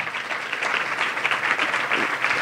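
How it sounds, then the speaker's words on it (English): Audience applause fills a luncheon honoring past presidents, a dense, steady wash of many hands clapping that stays loud and sustained throughout without easing off. "Another round of applause for all that they have done."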